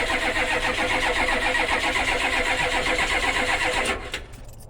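A camper conversion ambulance with front and back fuel tanks cranks and runs, a steady loud mid-pitched engine drone for about four seconds that cuts off abruptly near the end.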